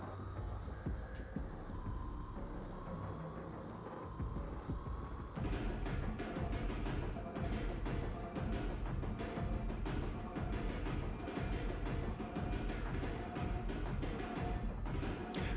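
A mechanical, whirring chase theme layer from the Dead by Daylight video game plays alone, shifting at about five seconds from a smooth droning hum to a loud, dense, pulsing rhythmic texture.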